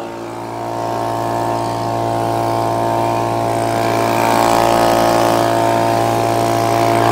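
An Echo leaf blower engine warming up runs at a steady, loud, droning pitch close by, rising slightly in intensity partway through with no pauses or voices.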